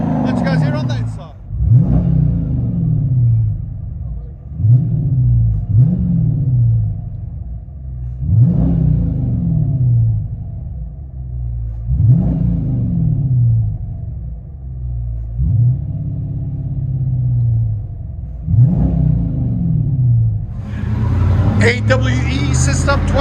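A 2020 Dodge Charger R/T with a 5.7L HEMI V8 and AWE cat-back dual exhaust, heard from inside the car. It gives a deep, loud rumble with repeated revs that each rise and fall, and a sharper burst near the end.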